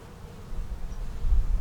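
Honey bees buzz around their hive, a steady low droning hum that swells louder toward the end with no voices over it.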